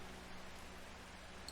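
Soft rain in the video game Strange Horticulture, a faint, steady patter and hiss with a low ambient hum beneath, quiet and continuous without talk.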